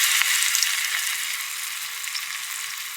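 A continuous, even sizzle of onion fritters frying in hot oil, close and fairly loud, holding steady for a few seconds with faint bubbling texture and no voices.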